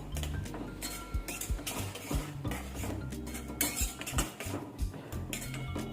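A spoon stirring dal with amchur powder and salt in a metal pot, with repeated clinks and scrapes against the sides in an uneven rhythm, close by.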